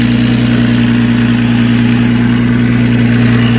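A 2004 Nissan Maxima with a stalling and fast-idle problem sits idling, its engine giving a close, steady, loud hum with a slight rattle and no pauses throughout.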